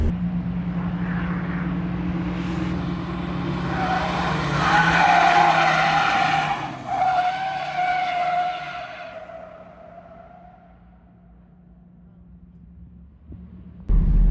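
A Volvo 740 drifts sideways with a long, loud tire skid that swells in the middle, over a steady engine drone; the squeal fades out and the engine carries on alone, with a sharp bump at the very end.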